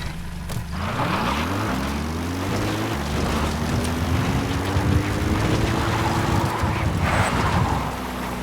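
A support helicopter in Metal Gear Solid V: The Phantom Pain drones close by, its engine whine climbing in pitch as it spins up, with buffeting wind and rotor rumble throughout.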